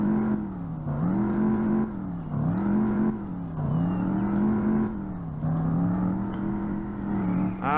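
A car engine in the Revhead racing game revs hard in repeated surges, about five or six rising-and-falling bursts, loud and continuous with no talk over it.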